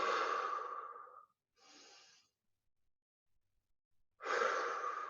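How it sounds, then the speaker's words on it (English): Deep, slow breathing during an evening stretching class: a long audible exhale, a shorter breath, a quiet pause, then another strong breath, all close and clear with no talk. "Really breathe into your belly. Make it go really big and then breathe out."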